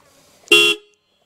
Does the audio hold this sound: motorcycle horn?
yes